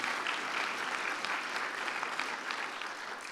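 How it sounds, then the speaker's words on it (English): A large audience at a city awards ceremony applauds steadily, a dense wash of clapping that holds at an even level for the whole stretch with no voices over it. "I think that deserves a second round of applause"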